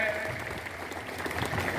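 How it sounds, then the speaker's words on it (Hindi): An audience claps to welcome a guest at a hospital building ceremony, a dense, even patter of many hands at moderate distance, steady for the short span with a faint voice underneath. "हाथ सभे गोड़े एकदम दुनू हाथ से करतल ध्वनि से उनकर स्वागत कल जाए"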